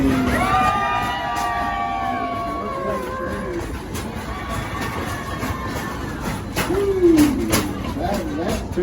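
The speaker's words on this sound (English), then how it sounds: "let's have us an old-fashioned screaming contest" Crowd at Silver Dollar City screaming in an old-fashioned screaming contest, a mass of shrill voices and shouts rising and falling, with a loud yell near the end over steady crowd noise.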